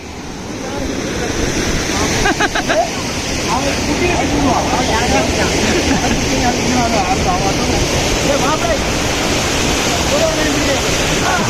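River water rushes and churns steadily at close range, a dense continuous roar that runs through the whole stretch, with a few brief clicks near the start.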